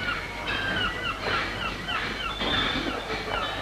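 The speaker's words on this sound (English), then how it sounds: "And on the roof, the gulls are waiting for the breakfast." Gulls call repeatedly on the roof of a busy fish market, their short honking cries overlapping at moderate distance over a low background din.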